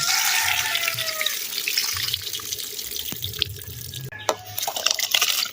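Tap water runs and splashes into a container while rice is rinsed outdoors for a Jamaican backyard meal, a steady close gush with faint clinks and drips, then a sharp knock and sloshing near the end.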